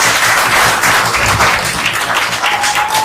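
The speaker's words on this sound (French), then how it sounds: "Encore une fois, on l'applaudit très fort." Sustained, dense applause from a crowded audience at a magazine launch event, loud and even for several seconds with no speech over it.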